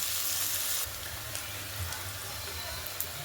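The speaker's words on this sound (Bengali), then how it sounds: "পেঁয়াজটা দেখুন ভাজা ভাজা হয়ে এলে" Food sizzles quietly and continuously in hot oil, a soft steady hiss with a brief louder crackle at the start.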